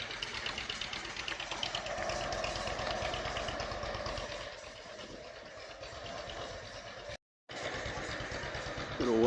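A John Deere tractor engine runs steadily at a Clay City, Indiana tractor show, a close, continuous mid-pitched chug with a brief dropout before it resumes.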